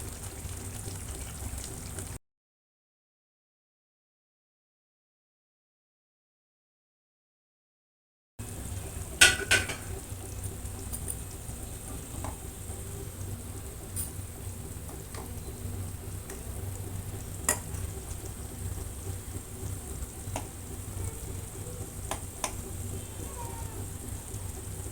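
Vegetarian palak keema balls simmer in a spinach gravy with a soft, continuous rain-like sizzle and bubbling, broken by a short silence and occasional light clinks of stirring.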